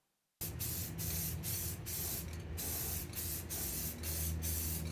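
A spray can lays paint onto a scrap-wood ping pong toss game in repeated bursts after a silent start, a loud close hiss pulsing roughly every half second with no talking.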